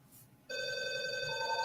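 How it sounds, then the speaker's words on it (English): A phone rings close by, a sudden steady electronic ringtone that starts abruptly after a short quiet moment and holds at the same level. "That's my phone. Sorry."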